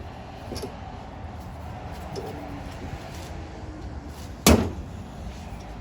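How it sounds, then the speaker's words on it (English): A valve spring compressor on a Dodge Ram Hemi 5.7 engine lets go of the valve collets with one sharp, close metallic snap. It rises from an otherwise quiet, low background hum. "That was the sound of the collets popping out, or not popping out, but releasing."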